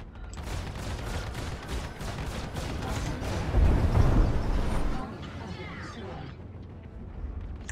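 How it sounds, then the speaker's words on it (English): Star Citizen Mustang Delta fighter firing in space combat, a rapid string of blasts building to a loud burst before thinning out, with faint voice underneath. "I put a missile into him at the last second."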